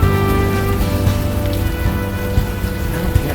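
Steady rain hiss from the video game Unavowed, continuous and fairly loud throughout, with a low droning hum underneath and no voices.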